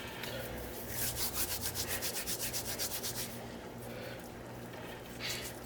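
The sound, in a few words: rubbing dried oregano between palms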